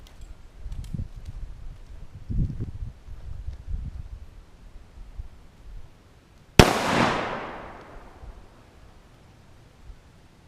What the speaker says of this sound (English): I shot that thing several times, but I just can't aim to save my life